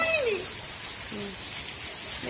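Steady hiss of rain falling outdoors, with a few bird chirps cutting through the wash.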